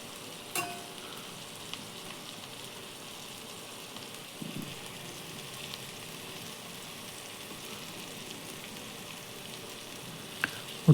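Chicken pieces fry gently in a pan for a Kerala chicken curry, a soft, steady sizzle with a few faint stirring knocks, quiet and close.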